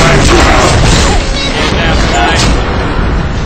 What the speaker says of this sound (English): How about some frag grenade